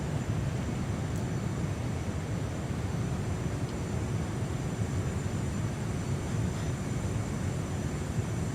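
Steady broadband roar of a G39 Griffin jet fighter engine in Microsoft Flight Simulator, a constant, fairly quiet whoosh with no change in rhythm and no talking.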